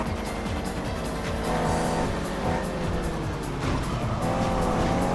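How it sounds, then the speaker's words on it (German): Race cars roar toward the listener in the GTI Racing video game, their engines revving through gear changes with rising and falling pitch and brief tire squeal, loud and continuous with no talking. "da kommen wieder zwei Autos angefetzt"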